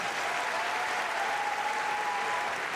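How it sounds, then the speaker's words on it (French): An audience at a contest presentation breaks into loud, sustained applause, a thick continuous clatter of many hands with a faint tonal hum running underneath. "Est-ce que vous pouvez l'applaudir bien fort s'il vous plaît?"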